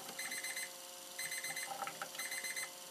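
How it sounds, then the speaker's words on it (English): The timer alarm on a Jobo CPE-2 film processor goes off in repeated bursts of rapid electronic beeping, three clear beep groups in quick succession, fairly close and with no talk. "You'll hear the timer going off."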